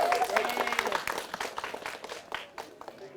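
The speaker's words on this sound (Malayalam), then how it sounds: "കൈയടിച്ചോണ്ട്." A studio audience at a comedy game show applauds to welcome a contestant, giving dense, steady clapping that rises quickly and then thins out, with a voice speaking over it.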